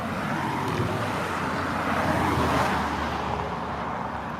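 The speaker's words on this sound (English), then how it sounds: "Y'all see how fast them cars flying by?" Cars speeding along a road in a continuous roar of nearby traffic, with passing vehicles swelling slightly in the middle, no voices over the steady wash of tire and engine noise.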